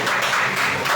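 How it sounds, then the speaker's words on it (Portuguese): A church congregation claps during a doctrine service, a brief, dense wash of applause that is steady and close with no voices. "com a tua salva de palmas para o Espírito Santo"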